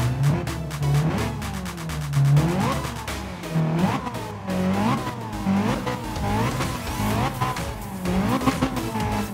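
A multimillion-dollar Alfa Romeo's engine revs repeatedly, rising and falling in quick throttle blips toward an 8000 rpm redline, loud and close with a harsh rasp and no talking over it.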